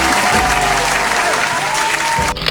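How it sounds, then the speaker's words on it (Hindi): Clapping for children during an Urdu phonics lesson, a dense, steady patter of many hands, loud and close, under a faint tonal background, stopping abruptly just before the end. "तालियां बजा ली हमने बच्चों के लिए"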